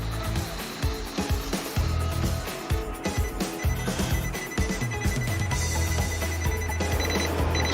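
An Isuzu Elf truck's stereo-camera safety system sounds a collision warning, a repeated electronic alarm tone ringing over a busy musical backdrop.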